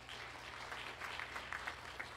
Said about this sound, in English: Let's give this great choir another round of applause.